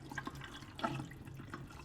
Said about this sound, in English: So I'm going to decant and allow the water to pass through the sieve like that